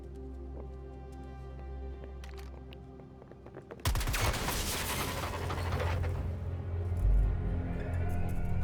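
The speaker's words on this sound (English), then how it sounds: "I say we put many bullets in that junction box to make our way out." Video game gunfire aimed at a junction box: a sudden dense burst of rapid shots breaks in over a droning game soundtrack and continues steadily to the end.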